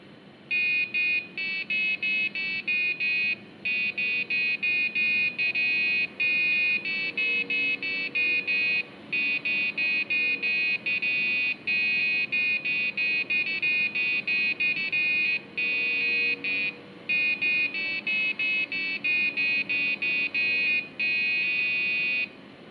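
An Arduino piezo buzzer plays Ode to Joy as a string of loud, shrill electronic beeps, one note after another with short gaps, steady and close for the whole stretch with no talking.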